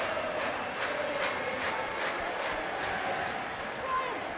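Rugby crowd at a Northampton Saints versus Saracens Premiership semi-final, roaring and chanting in rhythmic surges to rally the home side, heard at a distance under steady ambience.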